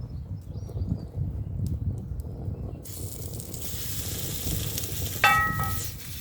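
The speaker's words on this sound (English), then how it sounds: "And we just fry this off while we're waiting on our greens" Chopped smoked meat frying in a warmed skillet, a steady close sizzle that brightens partway through, with a brief sharp clatter near the end and no talking.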